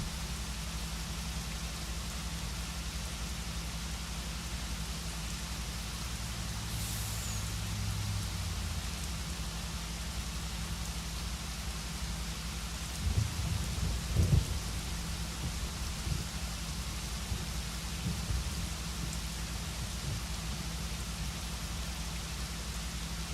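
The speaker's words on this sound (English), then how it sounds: "Look, the sun's shining and it's raining." Rain falls in sunshine with a steady, even hiss throughout. A few low rumbling thumps rise briefly near the middle.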